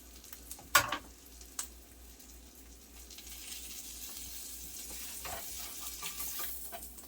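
Eggs frying in a pan for an egg sandwich, a quiet sizzle that swells slightly after a couple of sharp utensil knocks near the start, heard up close.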